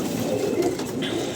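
Pigeons coo in a low, continuous burble close by, with a faint extra sound in the background.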